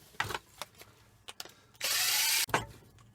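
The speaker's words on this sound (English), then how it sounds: "Screwdriver" A screwdriver works at an electric scooter being stripped for scrap: quick ratcheting clicks and scrapes, then a short burst of harsh mechanical whirring, followed by a final clatter.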